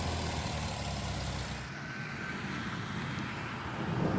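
A bus engine idles steadily, a loud continuous low rumble that stays even throughout, with no voices over it.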